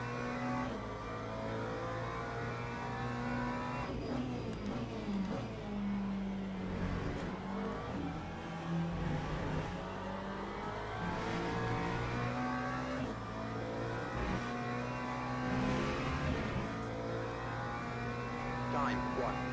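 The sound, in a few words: race car engines in Le Mans Ultimate video game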